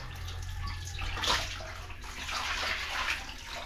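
Water running and leaking in a home bathroom during house construction, a steady broad wash of flowing water with no talk, moderately close throughout.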